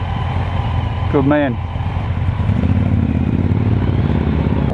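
Suzuki GS 500 motorcycle engine running steadily at close range, a continuous low rumble under wind noise while someone speaks briefly.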